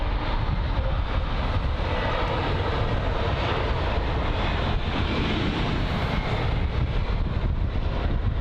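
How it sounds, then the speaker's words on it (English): A British Airways Airbus A321neo airliner touches down at London Heathrow, its engines giving a loud, steady broadband roar mixed with wind rush that fills the whole stretch without any voices. "It's the 321neo. That's just about to touch down."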